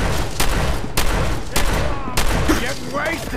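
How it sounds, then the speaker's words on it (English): A cryo grenade blast in the Fallout 4 video game amid a burst of gunfire, several sharp bangs in quick succession over noisy combat, with a player talking over it. "That was a cryo grenade."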